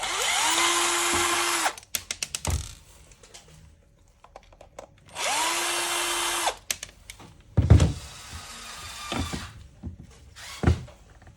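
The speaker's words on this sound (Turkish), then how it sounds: "Bunun için öncelikle şu sağ ve sol kısımda bulunan vidaları söküyoruz." A power screwdriver unscrews screws from a Xerox B210 drum unit, with two whirring bursts of a few seconds each, followed by close clicks, rattles and plastic knocks as parts are handled.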